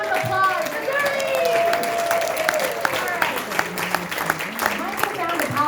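Audience applause at a gathering on economic challenges facing pastoral leaders, steady crowd clapping with a speaker's voice and cheers rising over it.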